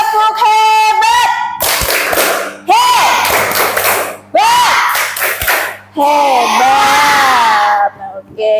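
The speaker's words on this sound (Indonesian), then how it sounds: "Tepuk hebat." Schoolchildren in a classroom chant and clap along to the rhythmic 'tepuk hebat' routine, their loud, close group voices interrupted by bursts of sharp, patterned claps.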